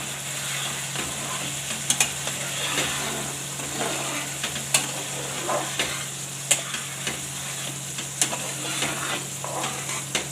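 Semolina is stirred in a pan for rava pak with a steady gritty scraping and a soft sizzle underneath, and a spatula knocks sharply against the pan every second or two.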